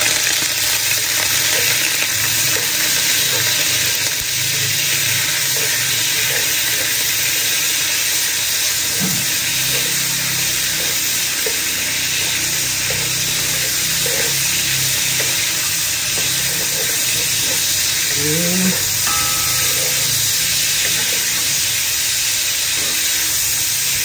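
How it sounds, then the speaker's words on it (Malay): Meat fries in a pan with a continuous loud sizzle and hiss, with a few soft clinks of stirring and no voices. "Tapi sekali kita nak goreng daging dulu."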